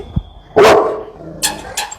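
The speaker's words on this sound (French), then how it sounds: "Lui, il continue d'aboyer." A dog barks once, loud and close, followed by a couple of fainter, shorter yips, with a low thud just before the bark and no talk over it.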